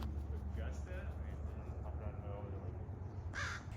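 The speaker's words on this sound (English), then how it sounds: "I found a crow with his foot stuck in a lawn chair" A crow caws several times outdoors, the calls short and somewhat distant over a steady low rumble of background noise.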